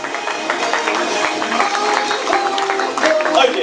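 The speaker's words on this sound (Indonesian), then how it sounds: "Boleh tepuk tangan sekali lagi untuk Bapak Johan." Audience applause for a man named Johan at a Top Vision business presentation, a steady wash of clapping with some talk mixed in.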